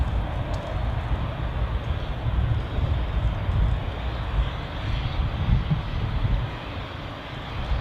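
An Embraer jet arrives at Zurich Airport, a sustained low rumbling engine roar at moderate distance that swells slightly midway and then eases toward the end.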